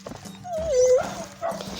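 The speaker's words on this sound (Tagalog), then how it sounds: "So sinalubong na kami ng aso" A dog gives a drawn-out, whining yelp, with another short bark-like cry near the end and faint background noise.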